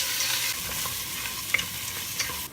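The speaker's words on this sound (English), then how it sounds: "And we will also fry the pasta a little bit." Pasta frying in about two tablespoons of olive oil in a pan for a vegetable and lentil soup, giving a steady, close sizzle with faint stirring scrapes and a couple of brief clicks.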